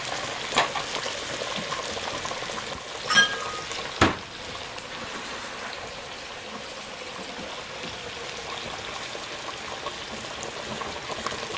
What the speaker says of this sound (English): it won't hurt to add just a little bit of water to this.